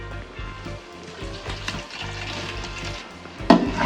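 Tomatoes fry in a large pot of chicken biryani masala over a medium flame, giving a steady close sizzle with soft stirring scrapes and a sharper clatter near the end, with no voices.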